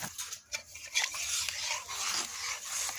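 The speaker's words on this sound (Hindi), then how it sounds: "थोड़ा सा डाल करके हमें इसको हिलाना है।" Food colour being stirred into sifted besan flour for besan ki chakki, a soft scraping and rubbing of a spoon against the bowl that runs steadily and close for the whole stretch, with no talking.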